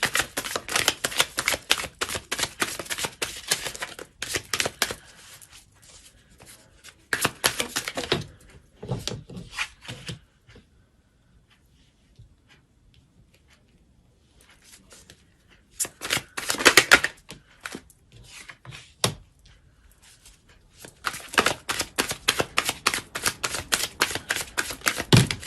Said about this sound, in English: just gonna get a few more cards